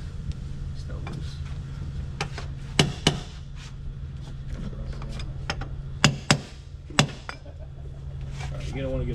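Several sharp metallic strikes from a hammer ring out at irregular intervals over a low background hum, with quieter taps and clinks in between, during stern drive engine alignment.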